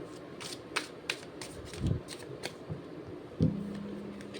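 Tarot cards are shuffled by hand at close range, giving a run of light, crisp flicks and soft riffles with a few fuller card slaps spaced irregularly.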